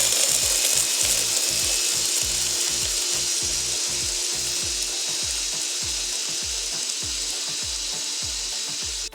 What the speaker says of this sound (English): now the fun part, we'll blend it up.